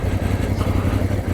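A Voge DS 625X motorcycle crawls along in second gear with the throttle shut, its engine idling in a steady, low, throbbing pulse close by and without a break.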